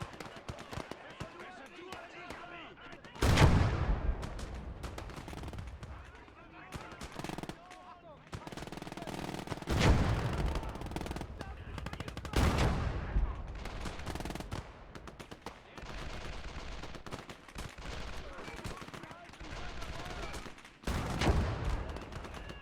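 Gunfire and HE rounds in a WWII real-time strategy game mod: scattered machine-gun bursts and sharp blasts come at irregular intervals over about twenty seconds, mixed with game noise and talk.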